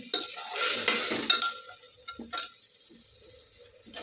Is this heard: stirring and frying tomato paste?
yes